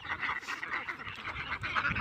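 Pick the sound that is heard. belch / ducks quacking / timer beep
ducks quacking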